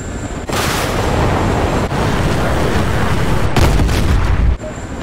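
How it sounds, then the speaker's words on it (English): A big explosion in DCS helicopter combat, Ka-50, Mi-24 Hind and Gazelle in a missile dogfight, makes a loud sustained roaring rumble lasting several seconds, with a second heavy burst near the end and no speech. "Something just blew up."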